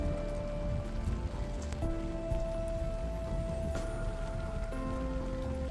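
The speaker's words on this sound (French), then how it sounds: "Bon, il flotte, j'avoue qu'on préférait qu'il fasse beau" Rain falls in a steady, even wash during a horse-drawn carriage trip through an Italian village, with no talk over it.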